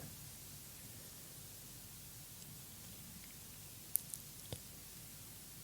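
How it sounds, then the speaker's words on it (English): Steady, even hiss of white noise, soft and constant throughout, with a few faint clicks near the end. "Do you like the sound of white noise playing in the background?"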